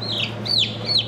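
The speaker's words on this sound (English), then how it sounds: "That, my friends, is the sound of an unhappy chicken." An unhappy chicken gives three loud, close, strained squawking clucks in quick succession, with no talk over them.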